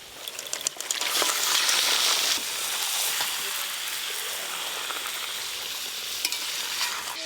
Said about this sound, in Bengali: সব মশলা খুব ভালো করে কষিয়ে নিয়েছি, এবার মশলা মাখানো মাংসটা দিয়ে দেবো।